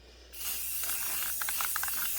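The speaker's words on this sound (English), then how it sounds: "I want to spray the lid of this box here purple" An aerosol spray paint can hisses steadily as purple paint is sprayed onto the lid of a box for homemade Christmas ornaments, a close continuous spray with faint clicks of the nozzle, no voices.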